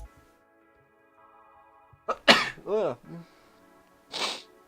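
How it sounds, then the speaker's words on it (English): A single sharp sneeze rings out near a quiet background of soft music, followed by a brief voiced sound and another short burst a moment later. "actually hated that sneeze."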